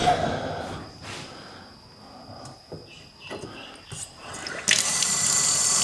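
Cold water runs from a kitchen tap in an old farmhouse, a faint trickle and splash in a sink, punctuated by soft handling noises and drips before the flow turns stronger and louder near the end.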